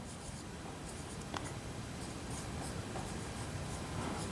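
A pen scratches steadily across paper at close range, a continuous soft writing sound during a math lesson, with no talk over it.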